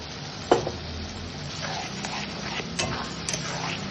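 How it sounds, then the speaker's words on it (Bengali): Spice masala frying in oil with tomato paste for homemade biryani, a soft, steady sizzle broken by a few utensil scrapes and clinks against the pan. "খুব ভালোভাবে মশলাটাকে কষাতে হবে।"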